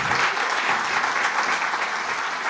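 A conference audience at a communications summit breaks into steady, full applause after a speaker's talk, dense clapping that holds evenly at close range without pause.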